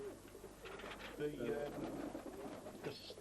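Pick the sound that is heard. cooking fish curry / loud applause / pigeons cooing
pigeons cooing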